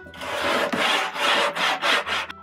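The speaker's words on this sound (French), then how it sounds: "Il y a un petit excès de bois à enlever. Vous pouvez le faire avec une cale de ponçage, comme celle-ci." A sanding block rubs back and forth along the wooden rails of a DIY kiteboard alaia, making about five rhythmic, close, raspy strokes with no other sound.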